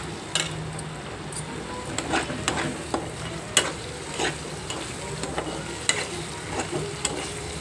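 Onion paste and radish pieces fry and sizzle in a pan while being stirred, with steady crackling and repeated scraping strokes of the spoon against the pan. There is no talking.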